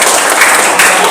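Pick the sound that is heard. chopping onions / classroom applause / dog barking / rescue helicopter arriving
classroom applause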